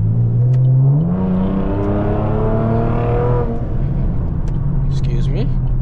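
A Camaro's engine revs hard while driving at night, a loud rising harmonic whine that climbs steeply, holds, then drops back to a steady low rumble, heard from inside the car.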